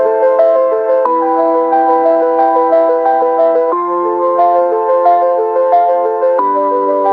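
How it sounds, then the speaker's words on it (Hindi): AI-generated motivational background music plays alone: steady, bright layered melodic tones shift chords every couple of seconds at an even loudness. "अब यहाँ पर हम अपनी प्रॉम्प्ट लिखेंगे generate a background music of motivational video."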